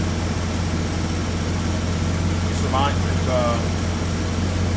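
A Lincoln Town Car engine idles with a steady low hum throughout, and a voice speaks briefly near the middle.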